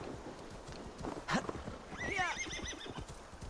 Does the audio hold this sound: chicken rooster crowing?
no